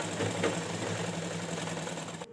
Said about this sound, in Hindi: तो यहाँ पे ये देख सकते हो मैं इस तरह से इसके ऊपर सिलाई ले रही हूँ।